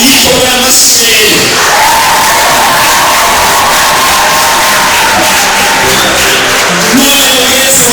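A church congregation clapping and cheering during a sermon: a loud, dense wall of crowd applause, shouting and whoops that holds steady throughout, close and filling the space.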